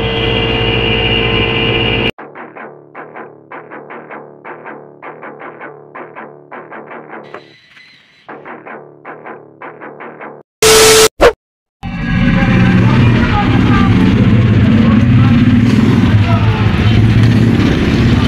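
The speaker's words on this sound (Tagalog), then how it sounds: "Yung fan motor na saka yung compressor ang ingay oh." A noisy Koppel inverter air conditioner before cleaning, its fan motor and compressor running with a loud steady drone, then a stretch of rapid rhythmic clattering pulses, a brief harsh burst, and a return to a dense roaring hum.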